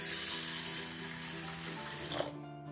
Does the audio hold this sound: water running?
yes